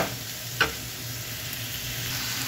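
Garlic chicken frying in a pan, a constant soft sizzle with one brief sharp scrape of stirring early on, no voices.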